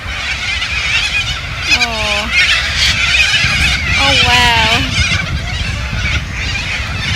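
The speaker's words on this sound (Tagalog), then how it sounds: "So naririnig nyo guys yung mga ibon." Birds call out with honking, wavering cries twice in a row over a noisy outdoor background at Centenary Lakes, Australia, while a person talks and exclaims.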